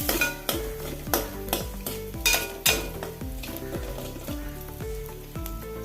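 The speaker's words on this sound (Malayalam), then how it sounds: "ഇനി ഒരു വലിയ സവോള നൈസായി അരിഞ്ഞതാണ് ഇത് ഇട്ട് കൊടുക്കാം നല്ലപോലെ ഒന്ന് മിക്സ് ചെയ്യാം" Finely sliced onion stirred into a Kerala-style sardine curry pan, with a steady sizzle of frying and repeated rhythmic scrapes and clinks of a spoon against the pan, close and without speech.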